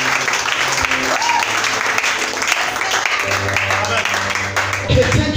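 A church congregation breaks into sustained applause and cheering that lasts throughout, loud and close, with voices calling out over the clapping.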